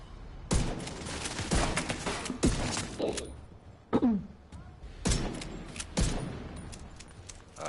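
Gunfire in The Division 2 video game, a burst of sharp close shots followed by spaced single cracks, loud over game ambience with a brief voice.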